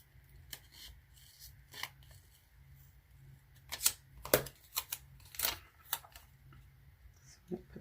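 Scissors cut through a strip of planner paper in a handful of crisp, separate snips that cluster near the middle, close and fairly quiet over a low steady hum.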